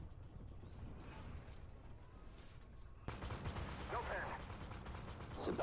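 Gunfire in the tank combat game Armored Warfare, a steady dense rumble of shots and blasts that grows louder and harsher partway through, with a voice heard faintly over it.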